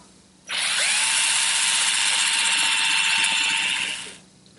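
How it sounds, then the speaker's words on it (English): A power drill whirs steadily for several seconds, close up, drilling a pilot hole in plywood, spinning up sharply and winding down at the end, with no talking. "position the front on it, and drill a pilot hole."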